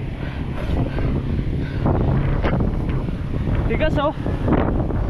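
Strong wind buffets the microphone while cycling up a steep 14% climb on a Viper bike along the Sierra Madre loop, a continuous low roar with a rider's brief spoken words and breathing over it.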